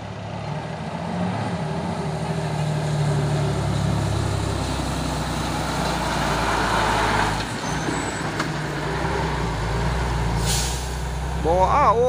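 A big truck engine rumbles steadily on the road with a sharp air-brake hiss near the end, alongside passing tanker and Isuzu Giga box trucks, while someone talks over the traffic.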